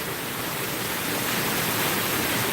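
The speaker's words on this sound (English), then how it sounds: "And then we have a waterfall right behind us." A waterfall rushes close by as a steady, dense broadband roar that stays even and loud throughout, with no other sounds standing out.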